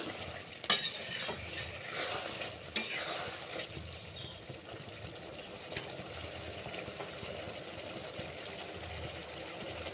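Chili chicken stirred and mixed in a pan, a soft, fairly faint scraping and stirring with steady sizzling and a few sharp clanks of the spatula.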